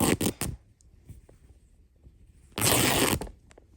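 Old, degraded cotton duvet fabric tearing in close, loud rips: a quick burst of short tears at the start, a quiet gap, then one longer sustained rip.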